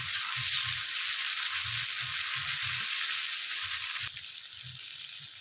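Spice paste for egg curry sizzles and fries steadily in a pan, a continuous bright crackle with soft low stirring thumps, slightly quieter after about four seconds, with no voices.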